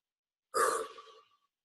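A single deep breath, a sighing exhale that fades within about a second, close and isolated against silence.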